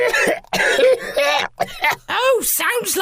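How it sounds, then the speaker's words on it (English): Sniffling and coughing from a character in an audio drama come as short throaty bursts mixed with voiced sounds, close and clear, in broken rhythm over about three seconds. "Oh, sounds like the sniffles."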